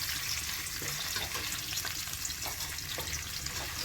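Paneer curry ingredients fry and sizzle steadily in a pan, a dense continuous hiss with occasional stirring scrapes, close and fairly loud with no talking.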